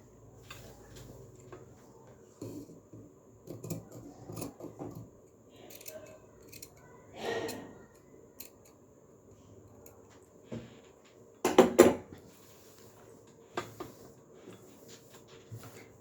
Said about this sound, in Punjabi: ਜਿੱਥੋਂ ਤੱਕ ਆਪਾਂ ਨਿਸ਼ਾਨ ਲਾਇਆ ਉੱਥੋਂ ਤੱਕ ਕਟਿੰਗ ਕਰ ਲੈਣਾ